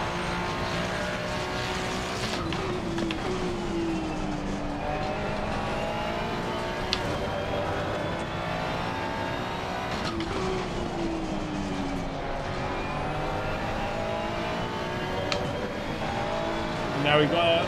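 Ferrari GT race cars in Assetto Corsa Competizione roar continuously close behind, engine notes sweeping up and down through gear changes in a sustained, loud drone with overlapping cars.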